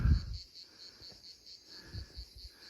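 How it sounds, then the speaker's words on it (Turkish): Steady high-pitched grasshopper chirping pulses continuously in the background, a rhythmic trill with faint rustling and low thumps underneath, in countryside near Abana, Kastamonu. "Kuş seslerini çekirge seslerini duyuyorsunuzdur."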